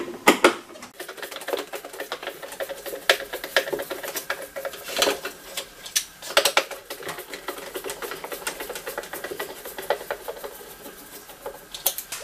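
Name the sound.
unscrewing screws with a Torx T15 screwdriver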